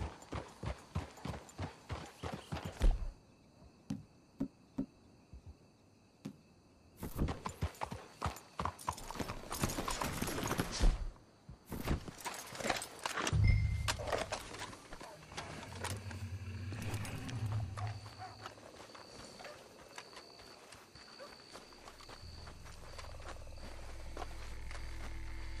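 Rapid clip-clopping horse hooves in bursts in Red Dead Redemption 2, then scattered clomping steps, giving way to a low rumbling ambience with occasional faint tones.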